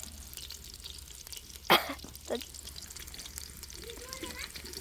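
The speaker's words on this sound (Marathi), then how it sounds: "कांदा तळू दे" Onion frying in a pan at home in a rural Indian kitchen, with a steady soft sizzle under the whole clip, a couple of sharper stirring clatters and background voices talking.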